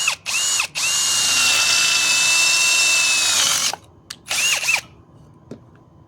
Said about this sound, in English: So I'm going to drill about there